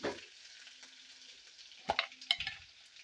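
Green chilies and dried red chilies hit hot oil with mustard seeds for a tempering, giving a short, fairly quiet sizzle punctuated by a few sharp clinks and crackles of a spoon, with no voices.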